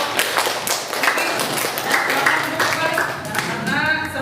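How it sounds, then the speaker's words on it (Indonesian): A classroom audience claps for a student group that has just presented, a steady dense patter of hands lasting a few seconds, close and fairly loud, with voices mixed in. "berikan aplaus untuk kelompok"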